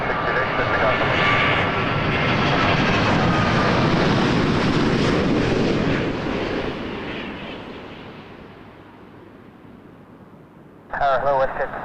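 An airliner roars overhead at Toronto Pearson Airport at night, its jet engine noise swelling loud and close, then fading into the distance, followed by radio chatter from air traffic control.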